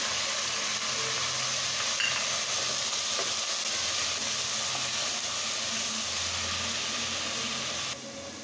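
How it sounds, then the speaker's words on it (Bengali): Ginger, garlic, onion and tomato paste sizzle and hiss steadily in a hot pan with chicken, a continuous loud frying noise with faint stirring scrapes and no talking. "আমি এখন আদা, রসুন, পেঁয়াজ আর টমেটোর পেস্টটা দিয়ে দিলাম।"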